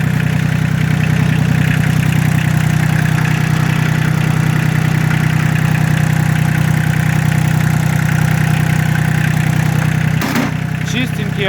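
A Kubota L1-802DT four-wheel-drive mini tractor's three-cylinder diesel idles steadily close by, a loud, even low drone throughout with a brief knock near the end.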